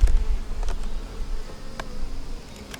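Honey bees buzz around an opened beehive during a hive inspection, a low steady droning hum close by with individual bees whizzing past now and then.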